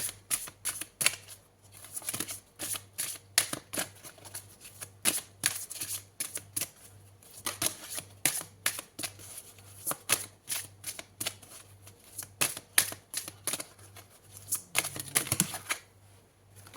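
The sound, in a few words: tarot cards being shuffled and drawn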